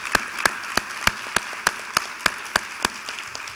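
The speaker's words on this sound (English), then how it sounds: "Let's give her a round of applause again." Steady applause from a conference audience for a young woman singer, with sharp, evenly spaced claps standing out above the crowd's general clapping.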